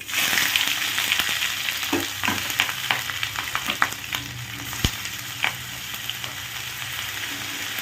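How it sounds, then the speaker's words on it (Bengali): Bay leaf and whole spices frying in hot oil as the tempering for a bottle-gourd lentil dal, a steady dense sizzle with scattered crackles and pops and a sharp spatter near the middle, no talking. "এইবার ফোড়নে দিয়ে দেব হচ্ছে তেজপাতা"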